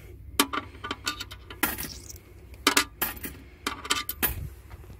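Euro coins clink and rattle one after another as they drop into a small money box at a roadside flower stall in the Netherlands, with sharp metallic chinks spread irregularly over a few seconds, close and fairly quiet.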